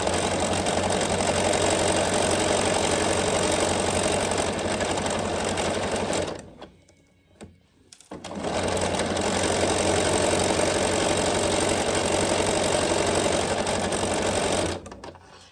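Sewing machine stitching fabric, a fast continuous mechanical whir that runs for several seconds, stops briefly with a couple of soft clicks, then resumes steadily before halting at the end.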